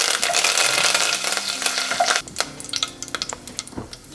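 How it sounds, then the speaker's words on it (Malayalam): Mustard seeds and curry leaves sizzle and crackle in hot oil, a dense frying hiss at first that thins into scattered close pops and spits as the heat drops. "എണ്ണ ചൂടായി കടുക് ചേർത്ത് കൊടുക്കുകയാണ്. ചൂട് കുറച്ചിട്ടിട്ട് കറിവേപ്പില ചേർത്ത് കൊടുക്കുക."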